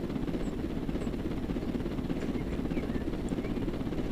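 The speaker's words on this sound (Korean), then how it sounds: "자 다시 헬기를 타고 가보자고요" A helicopter flies in Roblox Jailbreak with a steady, continuous rotor and engine drone, an even mid-level whir that holds unchanged throughout.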